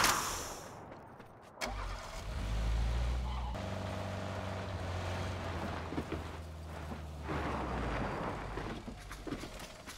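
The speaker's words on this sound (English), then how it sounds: "That was the most obvious car ever." A car engine in the video game PUBG starts up and rumbles at a low, mid-volume idle, holding steady for several seconds, with no voices over it.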